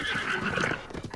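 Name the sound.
horse neighing in the video game Breath of the Wild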